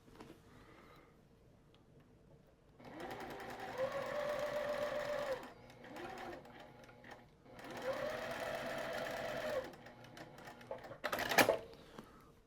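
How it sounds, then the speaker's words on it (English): A basic no-frills sewing machine stitches a quilt with a quarter-inch foot, running in steady whirring bursts of a few seconds each, pausing between runs, close up with faint room noise and no talk. "It's no frills sewing machine."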